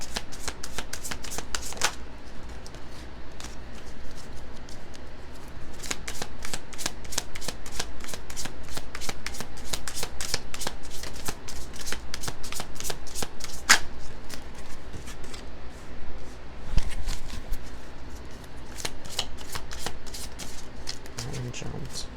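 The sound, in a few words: shuffling angel oracle cards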